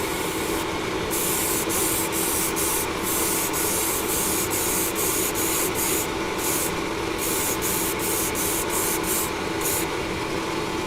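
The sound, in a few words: spray applying coat of Vallejo grey surface primer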